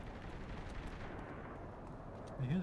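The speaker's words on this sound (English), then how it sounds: "I hear the gunfire." Distant gunfire in the open-world crime game Saints Row The Third, a dull steady rumble of shots and booms with no talk over it, swelling slightly louder right at the end.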